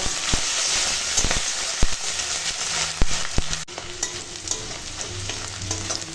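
Crushed garlic, chopped onion and slit green chilies fry in mustard oil with a constant loud sizzle, punctuated by sharp clatters and scrapes of stirring, with no talking.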